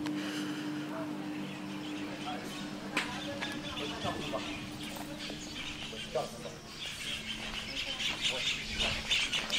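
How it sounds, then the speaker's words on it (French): Many birds chirp and call from century-old trees in the grounds of Madarumfa hospital in Niger, a busy outdoor chorus with scattered sharp notes over steady ambient noise and distant voices. "Des milliers d'oiseaux habitent ici et chantent"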